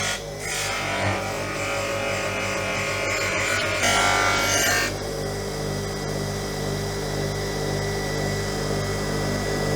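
A bench grinder whirs steadily while a metal fishing lure made from a kitchen utensil is polished against it, a loud continuous electric drone with a harsher grinding burst partway through.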